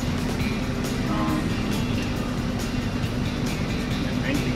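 A tractor engine runs steadily while spraying spring grain, a loud constant diesel drone with some rattling, and a voice talks faintly over it.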